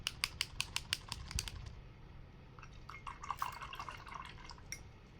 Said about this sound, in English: And then I'm going to wash my brush.